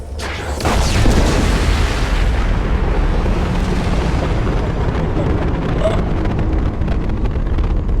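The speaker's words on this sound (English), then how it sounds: "It's going to explode." A large in-game explosion erupts in Mass Effect, a sudden loud boom followed by a long, heavy rumbling roar that stays dense and steady for several seconds, with no talk over it.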